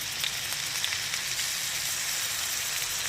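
Ginger and garlic paste sizzles steadily in hot butter in a pan, giving a continuous close crackling hiss with small pops throughout.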